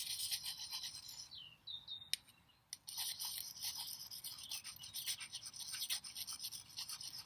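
A knife blade is stroked against a round sharpening stone outdoors at a forest school, giving repeated rasping, scraping strokes with a brief pause partway through, close and moderately loud, with faint birdsong in the background.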